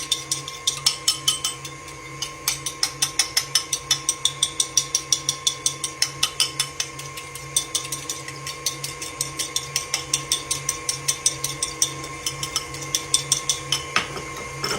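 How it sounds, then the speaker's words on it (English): An egg white is beaten in a bowl until frothy, giving a steady run of quick, sharp clicking strokes up close, with no talking. "beat your little white up a little bit like this. Get it kind of frothy"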